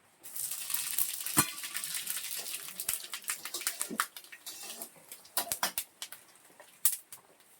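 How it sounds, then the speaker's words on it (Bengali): Panch phoron spices and dried chilli hit hot oil with a crisp, close sizzle, broken by scattered sharp pops and clinks of a spoon against the pan. "এবার ফোড়নে দিয়ে দিচ্ছি পাঁচ ফোড়ন আর শুকনো লঙ্কা গরম তেলে"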